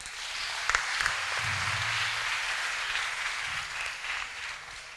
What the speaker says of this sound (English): Can you have a clap for her?